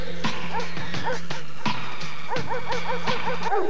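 Dogs bark and yip in bursts at an international dog show in Cascais, Portugal, several animals close by in a lively, echoing hall, with sharp overlapping calls and some whimpering.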